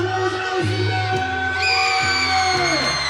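Crowd at a college gymnastics meet cheering and whooping with applause, a dense roar of voices at steady loudness, while a sustained tonal hum sits under the noise.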